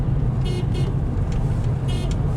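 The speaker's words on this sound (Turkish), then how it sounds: "Bu arada aracın kornası da şu şekilde" Two short car horn honks from a Toyota Corolla 1.4 D-4D, the second after a pause, sounding fairly close over a steady low engine rumble.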